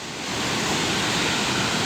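A rushing mountain river near Kedarnath roars in a steady, loud, broadband wash of water, close by and continuous with no voices over it.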